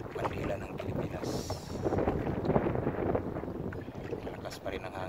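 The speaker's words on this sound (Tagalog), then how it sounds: "Lakas pa rin ang hangin dahil magayaway yung ano natin, magayaway yung bandila ng Pilipinas." Strong wind roars steadily across a fishing boat at sea on a sea trial, with gusty buffeting and rustling that suggests a Philippine flag flapping on board.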